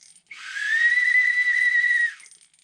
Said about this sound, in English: And then there's a whistle.